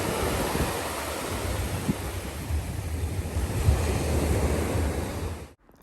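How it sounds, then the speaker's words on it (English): Ocean waves surge and break on Doctors Cave Beach in Jamaica, a loud, continuous roar of surf with rolling swells and wind buffeting the microphone, cutting off abruptly at the end. "Just sitting here, collecting all these waves."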